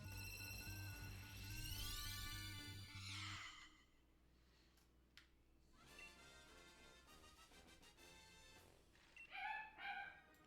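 A pet dog barks a couple of short, distant yaps, faint against game music with rising tones and sustained notes playing throughout.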